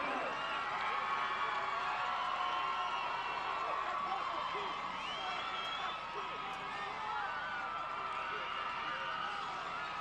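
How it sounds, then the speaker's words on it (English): A high school football crowd at Independence versus Ridgeview cheers and shouts steadily after a touchdown, a dense, continuous roar of voices with whoops, clapping and a commentator talking over it throughout. "Listen and look at this crowd."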